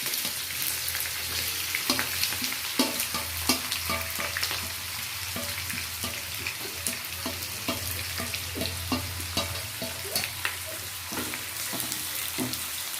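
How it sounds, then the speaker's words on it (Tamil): Onions fry in a kadai, a steady close sizzle broken by repeated scraping stirs throughout, with no talk. "கடாய் விட்டு அதில் ஆனியனை நல்லா ஃப்ரை பண்ணி எடுத்து வச்சுக்கலாம்."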